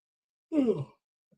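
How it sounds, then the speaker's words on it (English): A person yawns once, a short breathy vocal sigh that rises and falls over about half a second, close and fairly quiet, followed by silence with a tiny faint sound at the end. "I don't know why I'm yawning all of a sudden."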